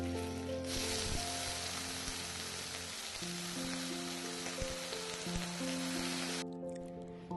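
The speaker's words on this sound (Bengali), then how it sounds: "কড়াইয়ে এক চামচ মতো সর্ষের তেল গরম করে তাতে অল্প একটু কালো জিরা ফোড়ন আর দুটো চেরা কাঁচা লঙ্কা ফোড়ন দিয়ে দিয়ে দিলাম টুকরো করে রাখা ঝিঙে" Ridge gourd pieces drop into hot mustard oil tempered with black cumin and slit green chillies, setting off a loud, steady sizzle that stays strong throughout and eases near the end.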